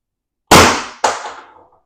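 Two sharp air gun shots from an AR Tactical .679 bore rifle, the first loud and forceful, the second about half a second later and slightly weaker, each with a short decaying ring and no talk.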